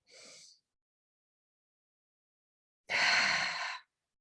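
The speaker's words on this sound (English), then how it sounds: "So together, taking a deep breath in. Taking 2 more deep breaths." Two deep breaths during a guided breathing exercise: a short soft intake, then a longer, louder, breathy exhale after a silent pause, close and alone.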